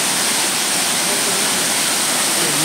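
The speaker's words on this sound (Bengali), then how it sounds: "ফলস দেখতে পাচ্ছেন, জলের স্রোত, তার কি প্রচণ্ড আওয়াজ।" Brahmani Falls at Ayodhya in Purulia roars with a dense, steady rush of falling water, loud and close with no breaks.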